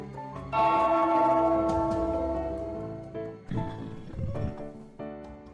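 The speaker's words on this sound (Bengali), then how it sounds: "ওই ঘন্টাটা বাজাও, বাজাও" A bell rings in a Bengali Gopal Bhar cartoon. It gives a bright, sustained, harmonic ringing that slowly fades, followed by a few shorter knocking and clopping sounds.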